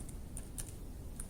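Text being typed into a Word document on a computer keyboard, a quick run of soft, close key clicks with no voice.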